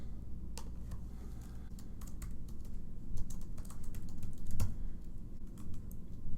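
Steady typing on a computer keyboard, entering a name into an email account setup form, with rapid uneven key clicks running throughout at a close, moderate level and no talking.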